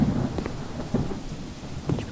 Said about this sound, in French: Maman, il y a de l'orage.